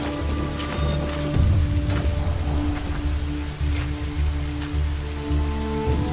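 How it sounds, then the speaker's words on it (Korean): Heavy rain pours steadily in a Korean drama scene, a dense continuous patter that holds at an even level throughout, with low sustained musical tones running underneath. "그날 비가 엄청 쏟아졌어요."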